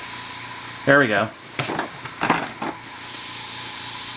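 A voice speaks briefly, then several short hissing bursts from a Tamiya Spray Work HG airbrush follow, close by, before the hiss fades to a faint background.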